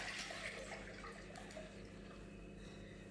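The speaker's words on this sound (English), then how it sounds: "So I'm going to pour in a liter of milk." A liter of milk poured into a pot for white sauce béchamel, a steady continuous liquid splash and trickle running close by throughout, fairly even in loudness with no talk over it.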